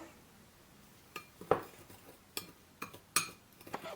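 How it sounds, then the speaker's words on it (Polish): Raspberry bath bomb mixture stirred energetically in a bowl, giving sparse clinks and scrapes of a utensil against the bowl at an uneven pace, fairly close and quiet with no voices. "więc sobie energicznie mieszamy, aż uzyskamy tą konsystencję"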